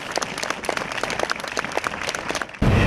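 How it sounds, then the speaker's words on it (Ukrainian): Outside a theatre, colleagues and admirers give farewell applause for actress Larysa Vlasenko, a steady crowd clapping that carries through, then cuts abruptly to a louder, rumbling background at the end. "Це останні прощальні аплодисменти, котрі звучали на честь народної артистки України Лариси Власенко від її колег по цеху і поціновувачів таланту актриси"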